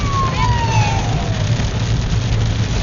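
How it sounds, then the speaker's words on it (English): Ambulance siren sweeping past on a rainy road near Rotorua, a descending wail fading as it moves off, set against heavy rain and engine rumble. "Ambulance."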